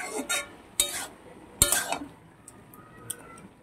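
A lid set onto a cooking pan while a home dish cooks: a few separate metallic clanks and clinks near the mic, with soft rattles between them.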